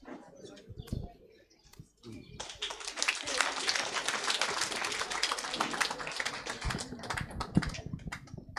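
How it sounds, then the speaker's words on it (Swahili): An audience at a PCEA Kayole Sacco members' education day breaks into a dense, sustained round of clapping that swells after a brief lull and carries on steadily, with voices mixed in underneath. "Makofi mazuri kwa Bwana Wero."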